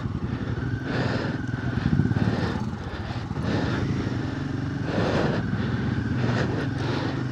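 Several motorcycles ride across the Chicham suspension bridge in Spiti valley, a steady loud engine drone with rising and falling swells as bikes pass close, continuous throughout with no talk.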